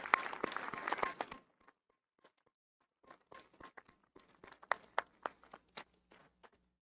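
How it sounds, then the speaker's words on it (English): Applause from the Unity class of 2025 graduates at their graduation ceremony: a dense burst of clapping for about a second and a half, then silence and scattered, sparse claps with a few soft footsteps-like taps. "I ask the class of 2025 to please give you a round of applause"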